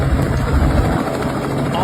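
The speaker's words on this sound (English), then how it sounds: "Can you imagine coming in on an approach and then your tail rotor just fails?" A helicopter comes in to land as its tail rotor fails, a loud steady low thrumming rotor and engine drone, with a voice talking over it.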